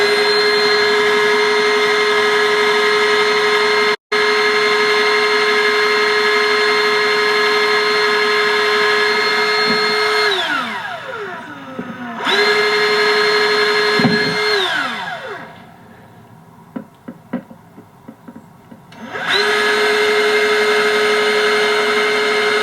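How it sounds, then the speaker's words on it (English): A power drill bores holes into a Honda X-ADV 750 motorcycle for a chain oiler install, loud steady whine that dips and spins down twice, with brief pauses and small clicks in between. "so I was very careful not to push too hard on the drill, just enough to get through"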